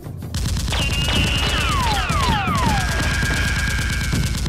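Rapid bursts of toy Nerf gun fire during an outdoor Nerf war game, a dense mechanical rattle with whistling streaks over it, close and loud.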